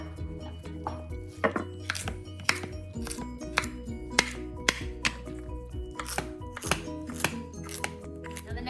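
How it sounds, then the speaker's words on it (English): A knife chops steadily on a cutting board, sharp close-up thwacks in an even rhythm, with faint clinks between strokes. "I've got my carrots, got my onion, my potatoes, and let's get to chopping."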